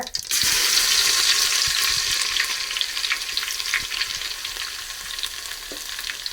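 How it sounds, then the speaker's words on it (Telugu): Mustard seeds frying and crackling in hot oil for a halibut fish curry, with a loud continuous sizzle and dense popping, close up and steady with no voice. "ఆవాలు వేసుకుంటున్నాను. తగినంత ఆవాలు, జీలకర్ర తగినంత"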